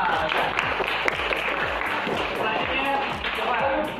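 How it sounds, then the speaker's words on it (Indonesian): Classroom applause for a student named Haikal at a teacher-practice session, a dense burst of many hands clapping steadily for several seconds with voices mixed underneath. "tepuk tangan untuk Haikal."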